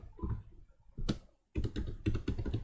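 Fingers tap out a short QBasic program title on a computer keyboard in quick, close bursts of clicking keys, with a brief pause between the runs.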